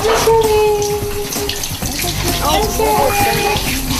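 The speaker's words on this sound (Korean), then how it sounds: "여느 엄마들처럼 이렇게 샤워기를 이용해서 아이를 씻기고 있었습니다." Water sprays steadily from a handheld shower head as a mother washes her young daughter, a continuous rushing and splashing that shifts as the stream hits skin, with faint indistinct sounds mixed in.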